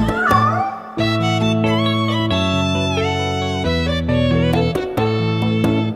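A sung children's nursery rhyme about three little kittens, in French, where singing voices imitate kittens meowing over a steady, bright musical backing, the meows repeating in a rhythmic pattern throughout.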